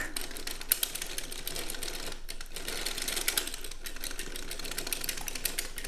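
A circular sock knitting machine is hand-cranked through about one and a half rows, producing a steady, continuous mechanical clatter of needles and cams at close range, with no talking.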